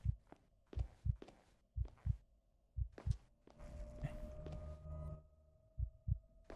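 Heartbeat effect in the horror game The Night that Speaks: deep paired thumps repeat at a steady pulse, loud and close, with a low hum and a brief rumbling swell in the middle.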